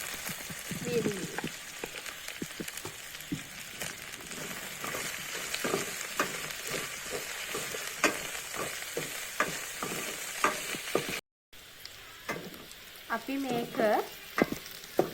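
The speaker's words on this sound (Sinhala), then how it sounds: "තෙලේ රන්වන් පාට වෙනකම් බැදගත්තා" Dried chillies, with curry leaves and salt, fry in hot oil at a home stove, giving a steady close sizzle broken by frequent scraping and stirring clatter; a voice speaks briefly near the start.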